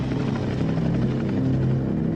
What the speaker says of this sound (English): The helicopter circles for 20 minutes, then disappears as suddenly as it arrived.